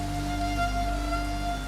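Steady rain falls in a dramatic Hindi television scene from the Ramayana, a continuous soft hiss beneath sustained musical tones.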